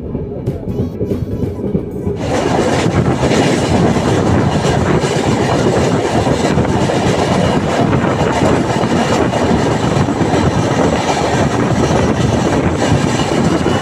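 The Dhauli Express rolls along the rails with a steady, loud rumble and rattling clatter heard from on board, holding constant throughout after a quieter opening moment.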